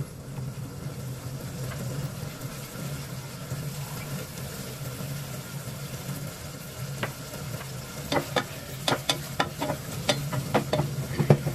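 Patola (sponge gourd) being sautéed in a frying pan at home, a steady low sizzle under a run of sharp utensil scrapes and clinks against the pan that get louder near the end.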